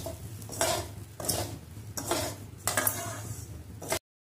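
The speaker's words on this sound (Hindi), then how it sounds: "कढ़ाई गर्म हो गया है और इसमें हमने घी डाला है और अभी सब डालिया को डालने वाले हैं।" Dalia cooking in hot ghee in a kadai, stirred with a spoon in four or five separate bursts of scraping and soft sizzling, close and moderately quiet, with short pauses between the strokes.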